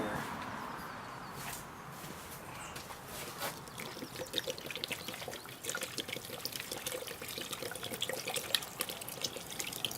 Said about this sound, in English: I could probably pour the Patterson print here.